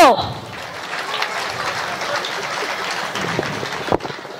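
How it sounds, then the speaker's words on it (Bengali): Audience applause at a Durga Puja cultural performance, a sustained wash of clapping from a crowd with a brief voice at the start, filling the space evenly throughout. "শ্রোতা এবং দর্শকবৃন্দকে অনুরোধ করব একবার জোরে হাততালির জন্য"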